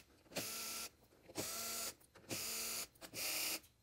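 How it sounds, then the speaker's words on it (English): Screws come out of the sorter cover on an Epson SureLab D3000 printer in four short, close whirring bursts with brief pauses between them. "I'm just going to remove the screws."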